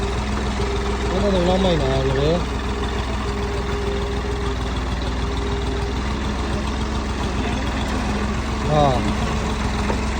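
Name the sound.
tractor engine idling as it pulls out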